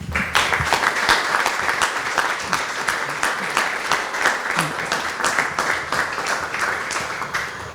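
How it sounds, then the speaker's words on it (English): Audience at a 500th anniversary celebration for Lagoa in the Azores gives a loud, sustained round of applause, many hands clapping in a dense crackling rhythm with a few voices faintly underneath. "So let's give a great round of applause of all the natives of Lagoa."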